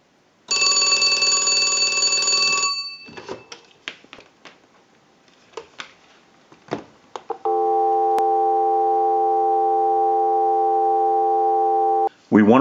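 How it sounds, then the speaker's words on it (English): On a Disney Mickey Mouse telephone under repair, a final ring burst gives way to handset clatter and clicks, then a steady dial tone from a line analyzer hums evenly for about five seconds before a brief click. "we'll give you some dial tone"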